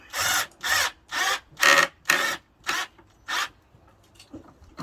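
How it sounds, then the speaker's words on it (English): A power driver whirs in several short bursts, each a second or so long, driving a screw into wood close by, followed by quiet rustling. "And drive the screw in."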